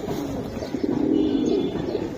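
A large, muff-footed khaki male Giribaz pigeon coos in a loft, a low, rolling murmur that swells slightly midway and runs continuously at moderate loudness, without voices.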